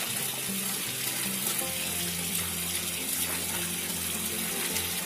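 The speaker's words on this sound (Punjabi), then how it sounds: "ਇਹਨੂੰ ਅੱਛੇ ਚੰਗੇ ਖੁੱਲ੍ਹੇ ਪਾਣੀ ਵਿੱਚ ਹੀ ਧੋਣਾ ਚਾਹੀਦਾ" Mustard greens are rinsed under an open, freely running tap, giving a steady, even gush and splash of water throughout, moderately quiet, with no talking.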